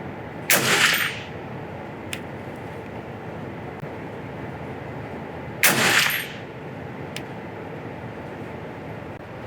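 FN SCAR rifle firing at a 100-yard outdoor range: two loud, sharp shots several seconds apart, each followed by a brief echo over steady wind noise, with faint clicks in between.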